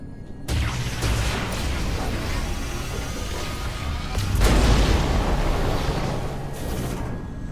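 A power bomb detonates in Metroid Prime 4 Beyond with a sudden deep boom, followed by a sustained roaring rumble and a second swelling blast a few seconds later, loud and full.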